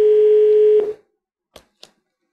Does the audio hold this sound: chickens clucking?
no